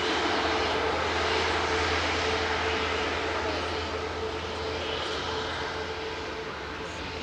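Ryanair airliner arriving from Paris touching down on runway 05 at Manchester Airport, a broad, steady jet roar heard from a distance and slowly easing.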